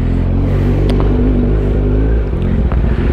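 A motorcycle engine, warmed up after work in Sofia, idles loudly and close with a steady low rumble and no break.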